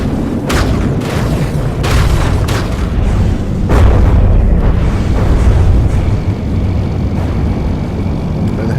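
Game vehicle blowing itself up with its own missiles, a loud continuous roar of blasts with several sharp booming bursts in the first four seconds, then sustained rumbling debris noise, with no talking.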